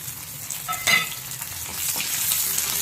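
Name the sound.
shallot, green chili and curry leaves sautéing in a pan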